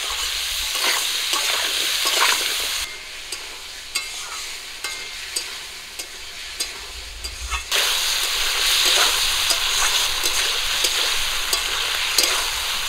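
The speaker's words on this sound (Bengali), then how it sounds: "লবণ হলুদ দিয়ে ঝিঙে আর আলুগুলো ভালো করে ভেজে নেব।" Ridge gourd and potato pieces frying with turmeric and salt, a loud continuous sizzle with repeated stirring scrapes, briefly quieter in the middle before the hiss swells again.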